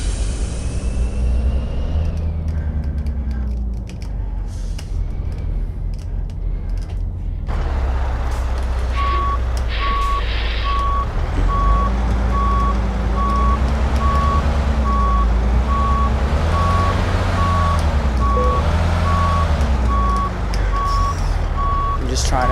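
Steady repeating reverse-alarm beeps from a truck backing a trailer in Euro Truck Simulator 2, running over a loud engine rumble and air-brake hiss for most of the stretch.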